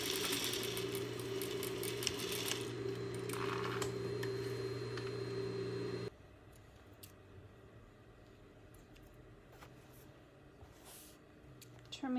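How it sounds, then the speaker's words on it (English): A sewing machine stitches through gathered layers of fabric in a steady, close whirring run for about six seconds, then stops, leaving quieter handling sounds of the fabric and thread. "I can see the seam where I'm sewing and make sure I'm sewing on top of it"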